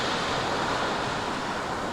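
Ocean waves wash onto the beach at Cape Henlopen, Delaware, making a continuous broadband rush of surf with some wind noise on the microphone, steady and fairly loud with no voices.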